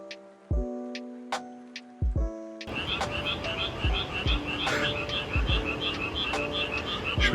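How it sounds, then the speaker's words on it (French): A chorus of frogs croaks in rapid, overlapping pulses close by an abandoned swimming pool in Gero Onsen, Japan, with a few sharp knocks at the start before the chorus fills in. "il y a des grenouilles qui sonnent l'alarme depuis"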